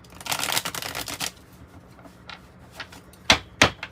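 A tarot card deck is shuffled by hand, a loud close riffle of flicking cards at first, then a pause followed by a few sharp taps and snaps as the cards are squared up, with no talking.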